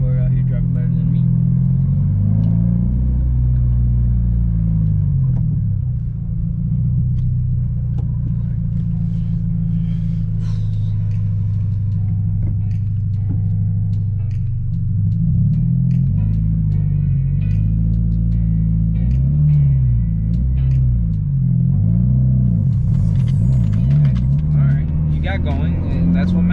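Low, steady rumble of a car with a racing clutch and manual transmission, driven by a learner, with the engine note shifting as it pulls along continuously; people talk over it throughout.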